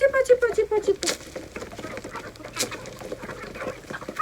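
Hens cluck softly nearby in short, scattered bursts, after a person briefly calls out to them at the start.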